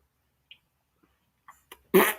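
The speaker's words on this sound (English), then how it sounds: "Every time a person farts, a demon gets its wings." A short fart is heard near the end, loud and close, after a few faint clicks and soft noises in otherwise near silence.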